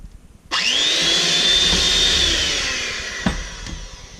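Electric hand mixer whirring through banana bread muffin batter, a loud steady motor whine that starts abruptly, holds for a few seconds, then winds down with a clunk near the end.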